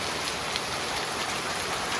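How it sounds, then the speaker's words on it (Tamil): Heavy rain pours down in a dense, steady hiss of drops hitting surfaces, loud and continuous with no voices. "நல்லா கனமழையாக கொட்டுது"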